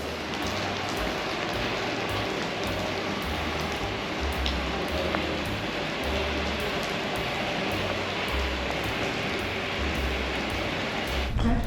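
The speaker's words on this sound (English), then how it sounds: "Time to get out of this rain" Steady rain falls outdoors on a street near a pub, a dense continuous hiss with a low rumbling undertone throughout, no voices.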